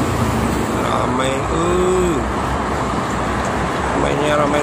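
Morning traffic on the Jakarta–Cikampek toll road, with trucks and tour buses rumbling past in a continuous broad roar, tyre and engine noise swelling slightly; faint tonal hums from passing vehicles, no clear speech.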